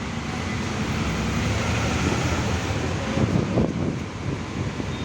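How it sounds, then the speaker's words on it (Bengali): Strong storm wind during rain in Chittagong roars as steady, loud buffeting against the microphone, with gusts swelling midway, and no talking. "মোটামুটি একটা ঝড় হচ্ছে ঝড়"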